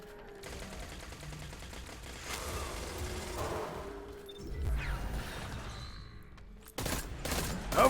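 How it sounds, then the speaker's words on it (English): Weapon fire in the Destiny 2: Shadowkeep video game comes as rapid, sustained volleys of shots, with a few heavier bursts and a crash, all fairly subdued in the mix. "Yep, I'm drawing his fire, just keep shooting him."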